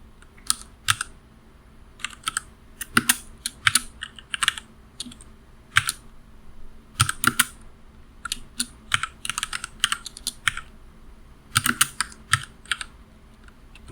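Python code being typed on a computer keyboard, with bursts of quick clicking keystrokes separated by short pauses, close and clear with no talking.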